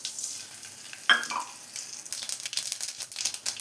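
Mustard seeds hit hot oil in a pan and start to sizzle and crackle. A sharp clatter comes first, then a rising spatter of faint pops, all close.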